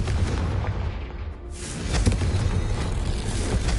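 Blasting spell explosion in the Hogwarts Legacy video game, a heavy booming blast with rumbling low end and a swell near two seconds inside a continuous loud game soundscape.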